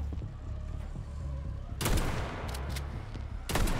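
Electric weapon fire in the video game Atomic Heart, bursts of crackling shots coming in two loud bursts over a steady background rumble.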